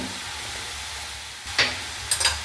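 Vegetables with frozen peas stirred in a pan, a soft background sizzle broken by a few short scraping bursts near the end.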